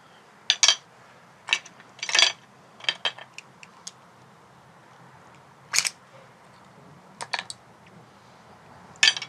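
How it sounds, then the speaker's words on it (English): Raw oysters being shucked with an oyster knife outdoors, producing sharp scattered clicks and scraping cracks of shell in short irregular bursts over a quiet background. "with these guys, just an oyster knife, I can literally just pop the shell right off"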